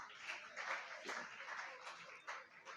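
An audience at a Karachi inter-school speech competition applauds a speaker, a continuous, fairly distant patter of many hands clapping at low volume.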